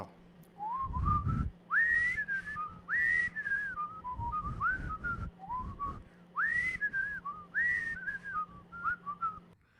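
A person whistles the Andy Griffith theme song, a bright melody, phrase after phrase of rising and sliding notes with short pauses between, close and clear.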